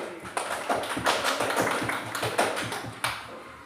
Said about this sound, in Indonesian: tepuk tangan buat Catherine dulu